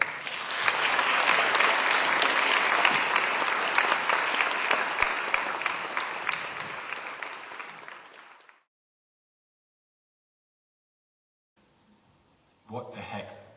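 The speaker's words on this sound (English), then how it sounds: "give him a big round of applause" Applause for a keynote speaker at a 2007 web conference in Norway, a loud, sustained crowd clapping that slowly fades out over about eight seconds, followed by silence and then a short burst of talk.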